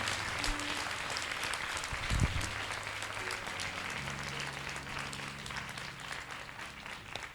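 A church congregation breaks into sustained applause during a worship service, a dense, steady wash of clapping from many hands that holds at an even level throughout, with faint voices mixed underneath.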